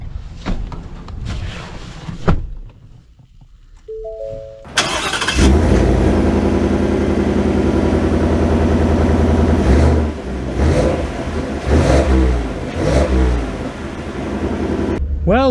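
A Ford F-150 Tremor pickup with a 5.0L V8 starts and pulls away, its engine settling into a loud, steady rumble close by, with rising revs and shifting tone as it drives off.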